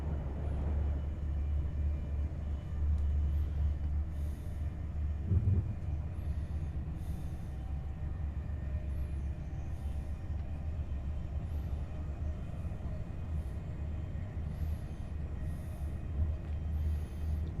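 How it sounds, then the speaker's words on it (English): A Class 390 Pendolino in Train Simulator 2021 runs on the West Coast Main Line near Birmingham, with a steady low rumble and faint periodic high chirps; no voices. "that's a Pendolino, finally"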